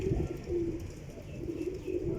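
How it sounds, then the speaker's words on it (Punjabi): Soft, low cooing from a closed-tail pigeon close by, rising in a few repeated throaty swells with brief gaps and no talking. "ਬੰਦ ਟੇਲਾਂ ਦੇ ਕਬੂਤਰ ਜੇ"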